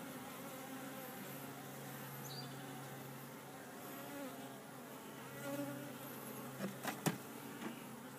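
Honey bees buzz steadily from an open hive while its brood frames are being shifted, a soft continuous drone with a few sharper knocks and bumps toward the end and no talking.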